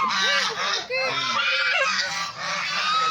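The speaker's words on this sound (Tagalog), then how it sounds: "pag may tao ang ingay yung gansa" A farm goose at a Tagaytay hotel honks loudly and repeatedly at nearby people, harsh nasal calls in quick bursts with short pauses, close to the microphone.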